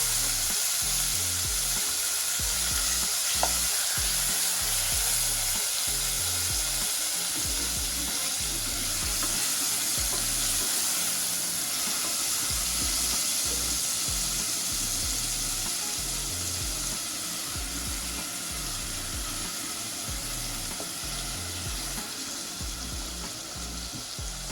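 Chicken breast sizzling in a hot pan for spaghetti jambalaya, a constant loud crackling fry with scraping stirs and utensil clatter throughout.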